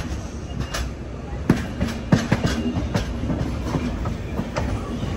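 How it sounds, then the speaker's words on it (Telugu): Train pulling out from a platform at Guntur station, with rhythmic clicks and clacks of wheels over rail joints and a steady rumble, moderately loud with no voices. "ఆ ట్రైన్ అయితే బయటికి వెళ్ళిపోతుంది"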